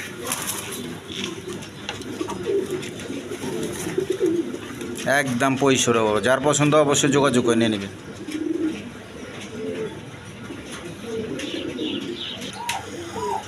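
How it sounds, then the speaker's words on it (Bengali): A pair of big-sized pigeons, a male and a female, coo in soft repeated bursts close by, their calls rising most clearly midway while someone talks over them. "একদম বিগ সাইজের কবুতর। দেখেন এই যে নর আর পিছনে একটা মাদি, একদম বিগ সাইজের।"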